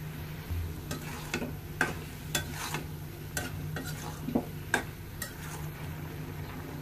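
Bottle gourd curry cooking in a pan, a soft simmering sizzle broken by a series of irregular light scrapes and clicks from stirring, fairly quiet and close.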